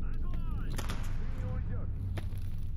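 Gunfire from a recoiling weapon in STALKER Anomaly: several loud, sharp shots crack at irregular intervals over a rumbling background, with a voice speaking between them.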